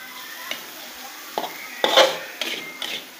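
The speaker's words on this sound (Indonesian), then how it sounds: "Kita aduk rata biar bumbunya meresap" A spicy stir-fry of genjer flowers is stirred in a pan, giving a handful of scraping strokes and utensil clatters over a faint sizzle, close-up with no one speaking.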